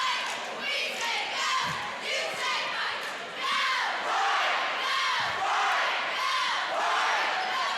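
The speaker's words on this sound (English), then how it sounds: "You can hear the crowd getting into it as we have 5 minutes left in this game." A gym crowd at a high school boys basketball game between Hedgesville and Martinsburg roars continuously late in the fourth quarter, with loud cheering, shouts and occasional ball thumps under the din.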